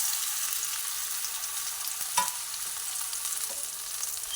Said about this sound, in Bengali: এই সময় এই পটলগুলোকে এই তেলের মধ্যে দিয়ে দিচ্ছি